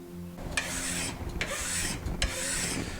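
A file rasps across the edge of a steel card scraper in three long, even strokes, close and steady, with no one talking.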